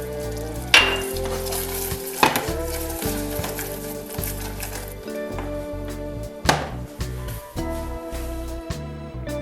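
Caramel for salted caramel bonbon chocolates cooks and sizzles in a pan as salt is added, with a continuous bubbling fry and several sharper bursts of sizzle, close and fairly loud, no voices.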